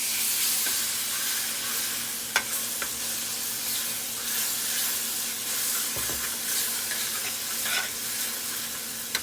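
Shelf-stable milk heating in a pan over a very high stove flame for macaroni and cheese, giving a steady close sizzle and hiss with a few soft scrapes and clinks of stirring.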